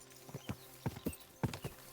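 Horse hooves clip-clopping at a quick pace in the video game Kingdom Come: Deliverance II, a run of about seven sharp, close hoof strikes with uneven spacing over a low background.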